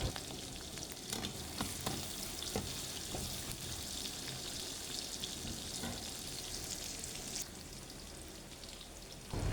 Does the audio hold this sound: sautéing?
yes